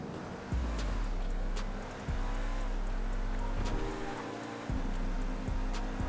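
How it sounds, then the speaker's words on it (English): Ubermacht Niobe sports car engine in GTA Online revving hard as it is floored, a loud low roar climbing in pitch in several surges with brief dips as the gears shift. "let's go ahead and give it some gas and floor it"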